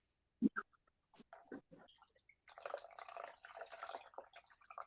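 Tap water runs while a pink clay face mask is washed off, starting with a few sharp drips and splashes, then a steady, fairly close rush of running water for the second half.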